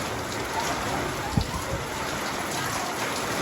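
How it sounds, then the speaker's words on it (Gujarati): Steady heavy rain pours down in a dense, continuous hiss, with one brief low thud partway through. "વરસાદ જો અંધરાધાર પડવા માંડ્યો છે"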